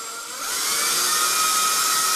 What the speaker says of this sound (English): So I'm going to drill lightly.